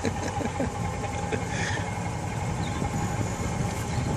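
Golf cart engine running while driving, a steady mid-pitched chugging hum with rumbling texture, loud and close, no clear talk.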